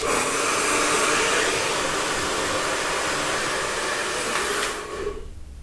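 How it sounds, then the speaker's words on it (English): A hair dryer blasts steadily and loudly at the roots of long hair while the head is tipped forward, a continuous broadband whoosh that cuts off near the end. "when you've dried your fringe, which you should always do first, then tip your head forward and brush it forward and just blast the roots for about 30 seconds"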